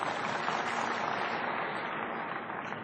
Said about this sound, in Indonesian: Ya, sedikit tepuk tangannya.